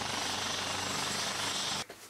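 A helicopter on the Faroe Islands gives a steady, even engine and rotor drone at moderate distance, cutting off abruptly near the end.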